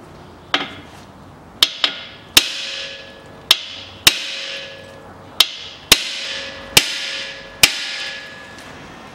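A hammer strikes the ball joint on the front suspension of a 2004 Toyota Harrier, about a dozen sharp metallic blows spaced roughly a second apart, loud and close with ringing decay.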